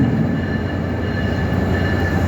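An Amtrak train rumbles steadily at a Penn Station track, a loud continuous low roar of wheels and railcars with a faint high whine, and no voices.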